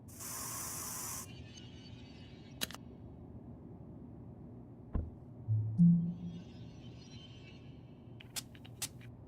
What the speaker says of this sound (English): while spraying my armpits